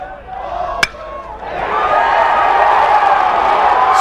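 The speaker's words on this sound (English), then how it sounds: "The crowd's fired." Crowd at a college baseball game between Florida and Tennessee roars and cheers after a double, the swell rising after a sharp crack and staying loud and sustained, with an announcer talking over it.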